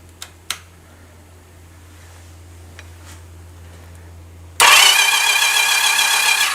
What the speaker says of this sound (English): we'll spin the motor and see if we get sparks